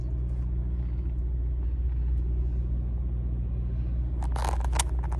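Vehicles idle and rumble in a Love's truck stop parking lot in Galveston, Texas, a steady low engine drone throughout, with brief clattering scrapes near the end.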